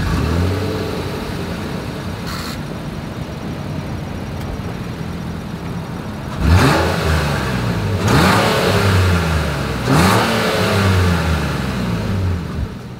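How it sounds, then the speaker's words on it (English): A 2023 Nissan Pathfinder with a single exhaust revs three times after a quiet idle, each blip a loud, rising burst that falls back quickly, recorded up close at the tailpipe with no talking. "As always, here is that exhaust clip."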